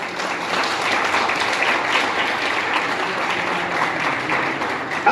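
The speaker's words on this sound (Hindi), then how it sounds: "तालियां लगनी चाहिए" An audience at an international motivational speaking event claps steadily for about five seconds, a dense even wash of applause with no voices rising above it.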